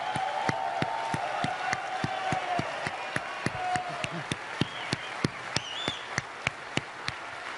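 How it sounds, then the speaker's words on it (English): A large audience claps for a team of stunt bikers at an indoor show, a steady dense patter of applause with some sharp loud claps standing out near the microphone. "a big round of applause for our bikers"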